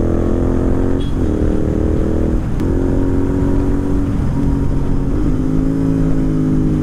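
A Royal Enfield GT650 motorcycle's exhaust drones loudly and steadily at close range, with its pitch rising and falling through several throttle changes during a ride.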